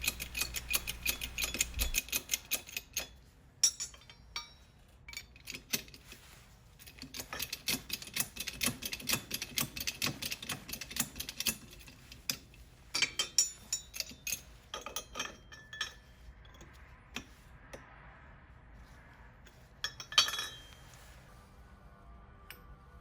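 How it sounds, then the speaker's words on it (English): A Morgan silver dollar is pressed through a coin ring die in a hand press, producing a long run of irregular metallic ticks, clinks and creaks, close and fairly quiet, with a few sharper clacks. "as smoothly as I can, I will press to the mark on my pusher, and then remove the die from the press"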